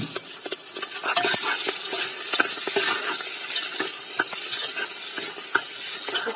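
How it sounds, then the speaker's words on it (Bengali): Onions and chilies frying in oil for khichuri, a bright continuous sizzle with frequent spatula scrapes and stirring knocks close by, with no talking. "এখন দিয়ে দিব পেঁয়াজ আর মরিচ"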